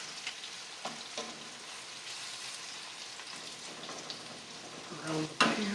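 Cauliflower pieces in an egg-and-flour coating fry in a pan with a steady, quiet sizzle throughout, broken by a few soft clinks and stirring knocks and a sharper clatter near the end.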